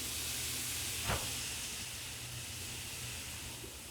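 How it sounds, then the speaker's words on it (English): Sauced chicken wings sizzling on a yakitori grill with sugary sauce dripping onto the fire, a steady close hiss with one brief louder flare near the start, no talking. "Woo, hear that sizzle."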